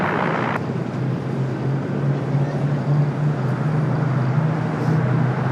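Heavy Boeing 787 Dreamliner over the runway threshold on landing at LAX, a steady loud jet roar with a low droning hum holding throughout, with a faint voice briefly audible in the background.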